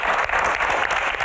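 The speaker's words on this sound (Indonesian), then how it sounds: "Tepuk tangan untuk Q&A malam ini." Steady, full applause from an audience at the close of an evening stage Q&A with panelists. The dense clapping fills the room evenly with no talk over it.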